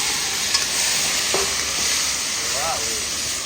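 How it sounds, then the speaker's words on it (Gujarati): Cumin seeds sizzling in hot oil during a tempering for a green turmeric and pea curry, a steady dense crackling hiss with faint stirring clinks, close and continuous without talk. "જીરાથી અત્યારે જે વઘાર થઈ ગયો છે"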